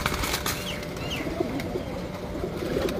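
Pigeons at a fancier's loft in Multan, kept as long-flying show birds, give soft low cooing throughout, with occasional wing flaps and bird calls over steady ambient noise.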